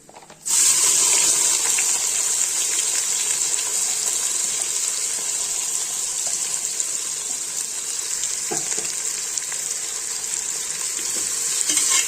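Half a kilo of finely chopped onions sautéing in oil for egg biryani, a steady loud sizzle that starts abruptly and holds without pause, with occasional faint scrapes of stirring.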